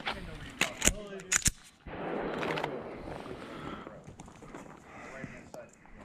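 Handgun shots crack out at an outdoor shooting range in a quick cluster of four or five sharp reports within about a second, followed by a lower rustling noise and faint voices.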